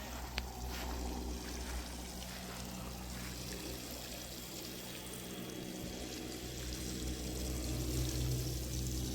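Water mixed with fertilizer is poured onto the base of a young tree, making a close, continuous splashing pour that stays fairly quiet and steady and swells slightly near the end.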